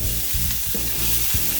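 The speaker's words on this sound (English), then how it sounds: "We're going to put the red onions in." Red onions frying in a hot pan crackle and hiss loudly and continuously, with a few dull knocks of a spatula moving them around, no talking.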